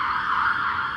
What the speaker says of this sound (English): Sorry about the ambulance noise.